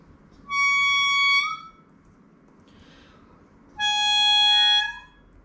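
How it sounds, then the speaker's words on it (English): Traditional Chinese sheng in its high register playing two sustained bright reed chords, each ending in a short sliding hua yin glissando, separated by a quiet pause over faint background hiss. "what we have next is the hua yin, which is going to be demonstrated on the traditional sheng"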